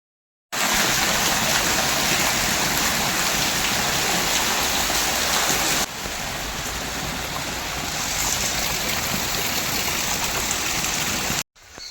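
Heavy rain pours down over a village in Gujarat as a dense, continuous roar of water. It starts abruptly, stays loud and even for about eleven seconds, eases slightly midway, then cuts off.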